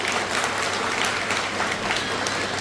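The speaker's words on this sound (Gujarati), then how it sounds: "પહેલા તો ટ્રેનિંગ આપી છે એમને જોરદાર તાળીઓથી વધાવી" An audience applauds at the closing ceremony of a ten-day free art and craft training camp, dense and steady clapping filling the room throughout.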